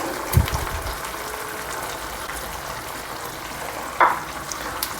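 Chilli chicken sauce with vinegar and tomato ketchup stirred in a pan, a steady sizzle and frying hiss with a couple of spoon scrapes and knocks against the pan.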